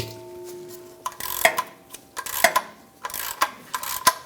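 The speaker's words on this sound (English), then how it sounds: "I'm going to use a 19mm socket to break this free" A ratchet with a 19mm socket works the oil drain plug on a 2008-2012 Honda Accord 3.5L V6, giving a quiet series of repeated clicking ratchet strokes, roughly one per second, close up and alone.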